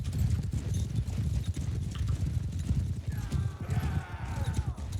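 Horse hooves clip-clopping in a fast, irregular rhythm during a Mount & Blade Bannerlord battle, close and loud, with a brief whinny near the end.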